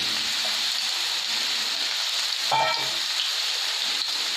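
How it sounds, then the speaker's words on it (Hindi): Ridge gourd frying in a pan, a continuous bright sizzle like light rain holding steady from start to finish, with a short clatter partway through and no talk. "इसको फ्राई करते हैं।"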